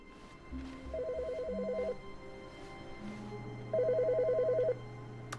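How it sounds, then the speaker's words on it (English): A telephone rings in the video game The Stanley Parable: two bursts of electronic trilling about a second long each, separated by a pause, with a low hum and tones underneath. "Phone's ringing."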